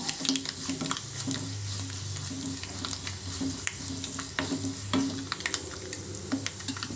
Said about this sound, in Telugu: ఆయిల్ వేడెక్కిందండి, 1/2 టేబుల్ స్పూన్ ఆవాలు, 1/2 టేబుల్ స్పూన్ జీలకర్ర వేస్తున్నాను.